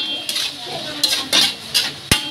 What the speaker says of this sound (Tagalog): Kunting halo lang